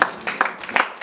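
A church congregation applauding during a worship service, brief bursts of clapping in quick uneven rhythm over a reverberant hall.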